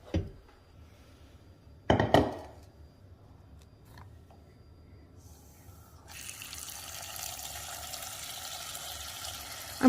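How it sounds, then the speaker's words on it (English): A pot of potatoes filling with water: a couple of knocks and clanks early on, a quiet stretch, then a steady rushing stream of running water that continues to the end. "I'm going to fill this with water"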